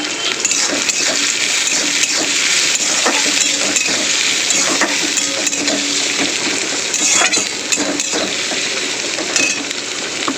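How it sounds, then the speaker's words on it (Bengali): Chopped onion and garlic fry in oil with a loud, continuous sizzle close by, dotted with occasional clinks of a spoon against the pan and no voices. "পেঁয়াজ আর রসুনটা তেলের মধ্যে কিন্তু ভাজা হয়ে গেছে"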